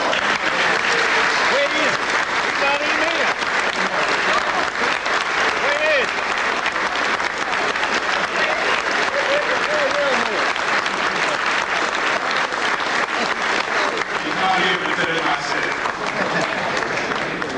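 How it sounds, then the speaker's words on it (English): Sustained, loud audience applause fills the room at a Georgia General Assembly gathering, steady dense clapping throughout with a slight dip near the end. "give a round of applause for the finest man I met"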